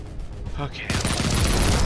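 Game gunfire from the PC shooter Project Warlock in an industrial level, a quiet stretch with a faint voice giving way to a sudden loud burst of rapid shots and dense blasts that continue to the end.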